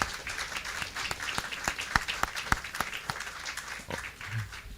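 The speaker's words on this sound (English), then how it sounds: "give her a round of applause" Audience applause for a senior project manager at the official opening of Lacovia Police Station, a moderate scattered clapping with a few sharp individual claps, steady for several seconds and somewhat distant.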